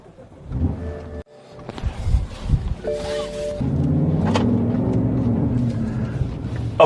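BMW E70 X5 V8 with its mufflers removed, first faint motor and cabin sounds with a brief whine, then a loud, steady engine drone as the SUV drives off, close and continuous.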